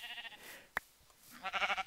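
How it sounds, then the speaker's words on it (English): Sheep bleating in the Minecraft video game: two short blocky game bleats, one at the start and a louder one near the end, with a sharp click between them. There is no talk. "there's plenty of sheep all over the place."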